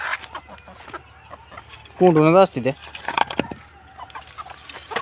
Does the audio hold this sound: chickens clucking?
yes